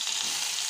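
Rohu fish pieces frying in hot oil for a curry, a dense steady sizzle that holds at one loud level through the short moment, with no voices.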